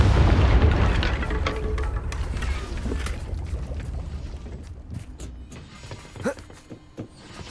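A Confringo fire spell bursts in Hogwarts Legacy, a loud booming blast up front that rumbles and fades over several seconds, with a smaller crack near the end.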